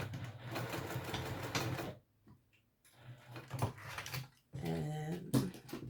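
A sewing machine stitches fabric at a short construction stitch length, running in steady bursts with a pause between seams, close and fairly loud.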